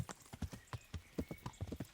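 Horse hooves clip-clop in a brisk, even rhythm in the video game Kingdom Come: Deliverance, each hoofbeat crisp and distinct at moderate volume.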